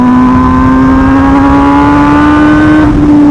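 An MV Agusta motorcycle engine revving at full throttle on a night ride, a loud steady high-revving drone close up that holds and climbs slightly before easing off near the end.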